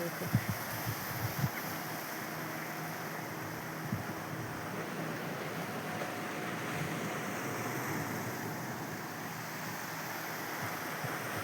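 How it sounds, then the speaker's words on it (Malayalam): A boat passes on the sea off Kannur Fort while waves wash against the rocks, giving a steady surf rush with a faint low drone and a few light knocks. "തോണി പോകുന്ന ആ ഒച്ചയാ"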